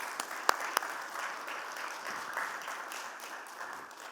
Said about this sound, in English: Patrick, you can give him a round of applause here.